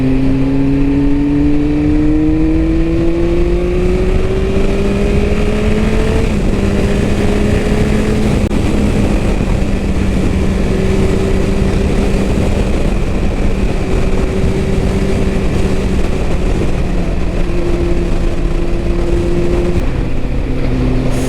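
A 2000 Yamaha R1 1000cc superbike engine drones loudly and continuously while riding, its pitch rising through the gears and holding steady, with heavy wind rush throughout.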